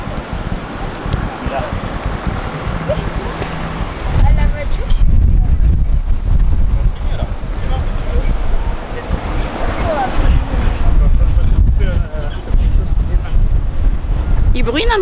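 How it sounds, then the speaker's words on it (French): Strong storm wind buffets the microphone on Trestraou beach in light drizzle, with loud gusting rumble and surf wash rising and falling, and a faint voice partly buried beneath. "il y a beaucoup de vent, mais je pense que la tempête est moins forte que prévu"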